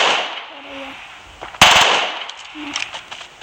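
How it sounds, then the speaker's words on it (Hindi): Short burst of automatic gunfire in PUBG training mode, fired at a car in the game: one sharp loud volley, close, followed by fainter scattered pops and game ambience. "इसको डालता हूँ मैं ऑटो मोड पर और इसको शूट करता हूँ।"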